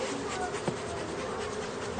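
A steady, dense drone of honeybees swarming over honey-laden hive supers on a healthy beehive in spring, continuous and close, with a faint brief knock partway through.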